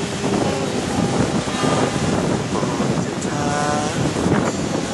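Strong seaside wind roars and buffets the microphone continuously, loud and close, mixed with surf and faint voices underneath.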